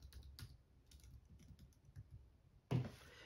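Quiet, close typing on a computer keyboard while entering a website URL, a run of soft irregular key taps ending in a louder clack like an enter key, no voices.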